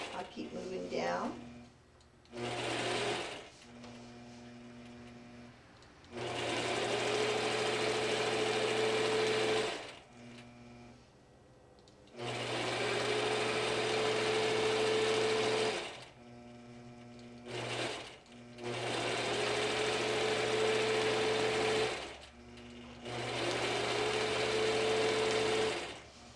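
A sewing machine stitches quilting lines in 1/2 inch increments, running in several long steady buzzing bursts separated by short pauses, close and clear with no talk over it.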